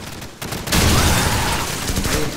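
A grenade blast in Call of Duty 4: Modern Warfare, a sudden loud boom after a brief quieter lead-in, followed by a broad rumbling wash of noise that lingers to the end.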